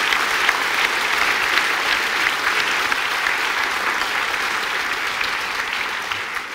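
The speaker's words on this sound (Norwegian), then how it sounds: "kan dere ikke gjøre det en gang til, for da kan vi klappe for de andre også" A theatre audience at a panel conversation applauds in a long, dense, steady round that stays loud and even throughout before easing slightly at the end.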